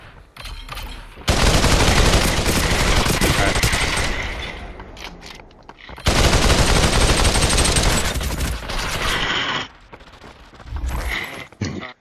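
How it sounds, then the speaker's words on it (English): Gunfire from the Population: One VR battle royale, with two long bursts of loud, rapid shots separated by short pauses and a brief final volley. Quieter game sounds fill the gaps. "Just firing off a couple shots."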